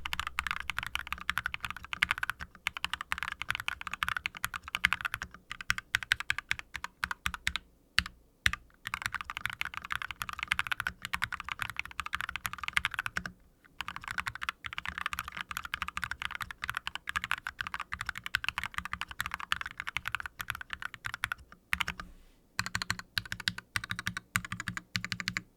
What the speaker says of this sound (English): But this might be the best sounding keyboard we've ever made too.